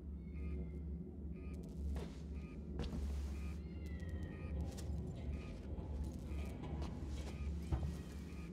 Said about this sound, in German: Was ist mit der Katze passiert? Die hat sich nicht so angehört, als wäre sie weit weg.